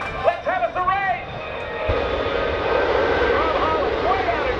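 Rob Holland's aerobatic airplane flies upside down with smoke on at the NAS Oceana Airshow, racing a jet truck, with a loud, steady engine roar as an announcer talks excitedly over it.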